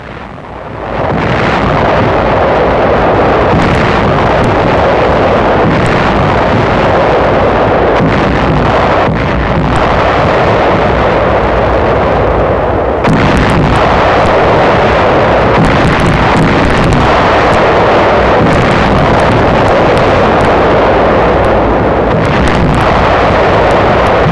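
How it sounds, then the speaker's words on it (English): Heavy naval shelling and rocket bombardment of the southwest coast of Okinawa in 1945 roars as a loud, continuous barrage of booming blasts, thick with wind-like rumble and old-recording hiss. "Rocket ships aid in the preliminary softening up bombardment."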